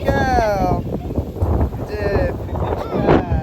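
Strong wind during rain on a rooftop roars steadily and buffets the microphone with low rumbling gusts, while people talk loudly over it throughout.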